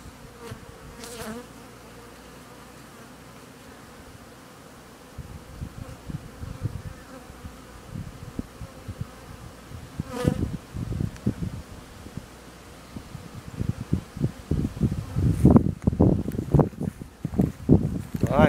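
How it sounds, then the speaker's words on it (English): A dense honey bee buzz hums steadily throughout, with louder rustling and bumping sounds building near the end, like many bees swarming close by on a bee farm with mite- and virus-sick colonies. "That's a swarming activity there. They're all coming out, getting ready to swarm."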